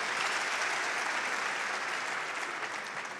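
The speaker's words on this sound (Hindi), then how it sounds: "आप एक बार तालियां बजा दें।" Steady, dense applause from an audience at a Hindi comedy and satire poetry recital, a kavi sammelan, filling the whole stretch at an even level and fading slightly toward the end.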